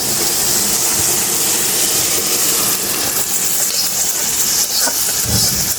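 Boiled moong dal hits a pan of frying spice paste, a loud, steady, close-up hiss and bubbling roar with faint scraping near the end and no talking.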